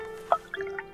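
Water drips from a tap in the True Fear horror game, a few sharp drips plinking close by in a quiet room, with a steady hum underneath.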